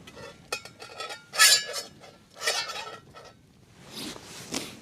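A frying pan set down on a lit gas hob with a sharp metallic clink among several lighter clatters of kitchen handling, close and fairly quiet, before cooking a minced lamb stew.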